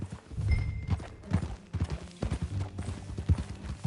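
Horse hooves clip-clopping at a steady walking rhythm in the video game Red Dead Redemption 2, close and moderately loud, with faint low rumbling underneath.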